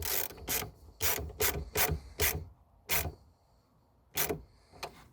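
A ratchet tightening a car battery terminal on a BMW clicks in short bursts, about nine quick rasping strokes with brief pauses between them, close up and fairly loud.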